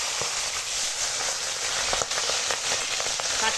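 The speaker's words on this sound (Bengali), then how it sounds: "এখন মাছের মাথা ভাজতে দিয়েছি এটা কাতলা মাছের মাথা" A katla fish head fries in hot oil, giving a dense, steady sizzle with scattered pops and crackles, close and continuous throughout, with no talking.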